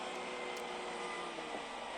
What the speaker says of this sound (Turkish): Klimayı açar mısın? Açıyorum.